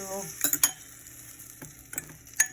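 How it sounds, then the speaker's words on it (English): A spoon stirs an egg mixture into peanut butter for low-carb chaffle batter in a bowl, making a few short clinks and scrapes with brief quiet gaps between strokes. "incorporate the egg mixture with the peanut butter that we saw in the last step"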